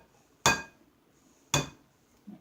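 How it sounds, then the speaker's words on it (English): An egg is cracked open for chicken meatloaf in a home kitchen, giving two sharp, close taps about a second apart, each a brief hard knock with a quick decay, followed by a faint soft bump. "It takes a couple of whacks on the egg to get it to open for you."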